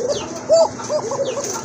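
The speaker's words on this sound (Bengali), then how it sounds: "এই যে দেখেন এটা হচ্ছে আপনার অ্যারাবিয়ান কোকা কবুতর। এই যে দেখেন মাশাআল্লাহ কত ডাকে" An Arabian Coca pigeon coos in a short run of soft, repeated calls close by, with faint background noise and no talk.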